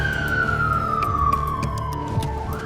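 An ambulance siren wails loud and close as one long tone that slowly falls in pitch, over heavy road and engine rumble.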